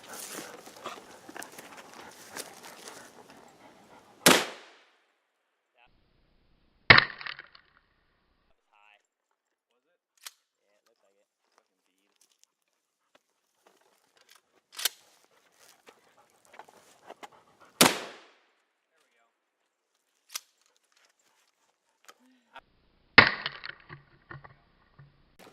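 Shotgun firing 2 3/4 inch double-aught buck at about 1,300 feet per second into cheap duct-taped body armor: a few sharp, loud blasts spaced several seconds apart with quiet gaps, some rustling and handling noise early on.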